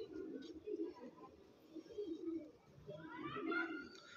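A pigeon cooing softly in low, rolling repeated coos, quiet and close, with faint background voices.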